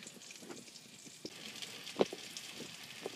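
Sunfish fillets frying in a pan give off a soft, steady sizzle with faint pops and crackles, heard quietly and alone at close range.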